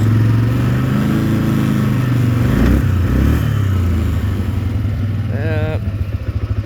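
A 2005 Can-Am Outlander 400 Max ATV engine runs steadily in low gear, a loud, close, continuous low rumble with slight rises in revs and a brief higher whine near the end.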